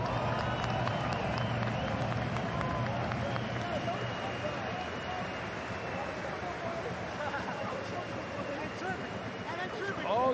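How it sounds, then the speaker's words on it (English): A sold-out stadium crowd at a championship football game roars and applauds steadily for the Stuttgart Surge, a dense continuous wash of cheering and clapping with voices mixed through it. "I think they deserve a round of applause."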